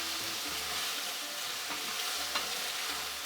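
Food frying in a hot pan for a crispy crust, a steady dense sizzle with a few faint clicks, continuous and fairly close throughout, with no talking.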